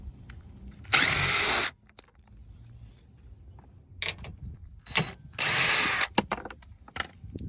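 An impact driver or power drill loosens 10 mm bolts on the corner guards of a Jeep Grand Cherokee Trailhawk, giving two loud sustained whirring bursts plus a short one, separated by quiet handling clicks.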